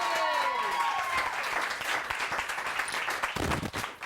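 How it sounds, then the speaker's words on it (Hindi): Studio audience applauds for a guest on a live morning TV show, a dense wash of clapping sustained for about four seconds and tapering off near the end, with a brief whistle-like tone at the start. "बहुत सारी तालियां होनी चाहिए।"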